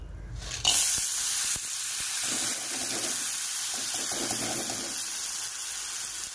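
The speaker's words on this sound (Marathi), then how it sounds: "उसळ थोडं कढईमध्ये तेल टाकून त्या उसळीला परतून घेऊया।" Usal, a sprout curry, sautés in oil in a kadai with a steady, moderately loud sizzle, plus a few brief knocks early on.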